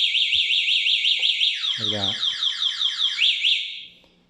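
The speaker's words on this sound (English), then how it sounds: "if they try to move it, there, as you can see, the alarm comes on." A cheap no-brand budget electric scooter's anti-theft alarm wails loud and close in a fast rising warble, with a brief low descending tone partway through, then trails off at the end; a voice briefly talks over it.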